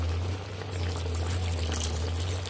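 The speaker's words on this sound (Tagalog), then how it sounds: "Next naman ay maglalagay na tayo ng suka" Vinegar pours into a pot of dinuguan, Filipino pork blood stew, as a short steady liquid stream that runs unbroken for a couple of seconds over a low background hum.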